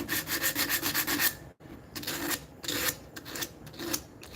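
Sandpaper scrubs rapidly back and forth over a wooden cane, knocking an old epoxy finish down with coarse 100-grit paper in close, rhythmic bursts with one brief pause.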